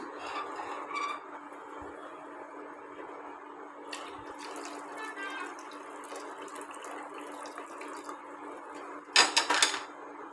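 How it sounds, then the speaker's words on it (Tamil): Cooking water drains from a pot of boiled horse gram into a vessel for rasam, a steady close trickle and splash running under light kitchen clatter, with a louder burst of pouring near the end. "இதிலிருந்து நான் கொஞ்சம் தண்ணி வந்து ரசத்துக்கு வடிச்சிக்க போகிறேன்"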